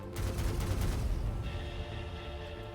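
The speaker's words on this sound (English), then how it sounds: "firing the Helios" The Helios weapon fires in a video game, a dense burst of rapid shots and booms that swells loud up front, then settles into a ringing tonal hum as the barrage fades.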